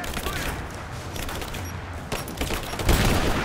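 Gunfire in the game Rise of the Tomb Raider, a dense crackling volley of shots that swells toward the end, with a heavier boom near a flaming barrel.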